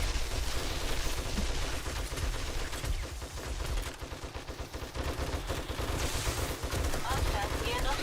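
Sustained gunfire from a firing squad defending a horde base in the survival game 7 Days to Die, dense overlapping shots and booms running continuously, with a voice talking over the din.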